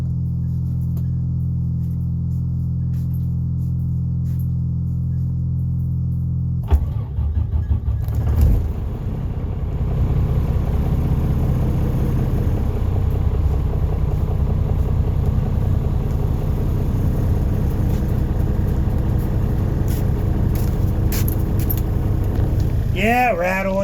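A car engine cranks and catches partway through, then settles into a steady, fairly loud idle with an audible rattle, running alone close by until a brief rise near the end.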